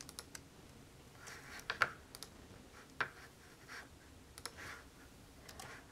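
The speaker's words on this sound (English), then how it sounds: "Got to get out my keyboard." Faint, sparse keystrokes on a computer keyboard, a few isolated clicks and small bursts of typing against a quiet room, with no talking.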